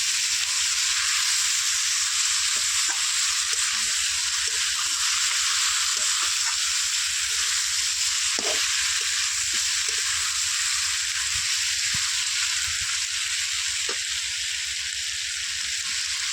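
A tender katla fish head fries with spices in a wok, giving a dense, continuous sizzle that stays loud and even throughout, with occasional faint clicks underneath.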